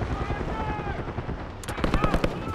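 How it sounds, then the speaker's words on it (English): Gunfire rattles in a desert battle in the video game Call of Duty: Black Ops 6, sharp repeated shots crackling over a dense, rumbling din of combat with a helicopter nearby. "We've got gunfire to the right. Over those dunes."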